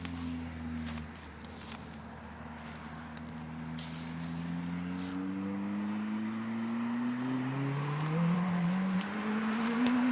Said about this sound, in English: That's the trouble with these young guys with these fancy exhausts. They actually sound like they're doing like 100 miles an hour